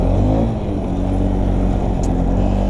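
Small Arctic Cat 250 ATV engine running steadily during a ride along powerline trails, a loud, constant low rumble with slight shifts in pitch and no talk over it.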